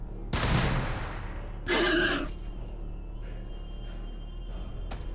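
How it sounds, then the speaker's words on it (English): A grenade volley fires in the Warhammer 40K Battlesector strategy game, two loud bursting blasts about a second apart, each trailing off into a low rumbling battlefield hum. "Firing grenades. grenade volley!"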